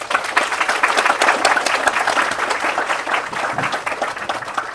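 Audience at a haunted-themed literary reading at the AWP conference gives a sustained round of applause for the writers, dense steady clapping from many hands that eases slightly toward the end.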